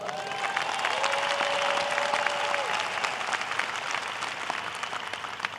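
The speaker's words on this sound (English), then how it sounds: "Give yourself a round of applause." Dense, sustained applause fills a large hall at the 2025 John Jay College commencement, a steady wash of many hands clapping, with a voice briefly speaking over the start.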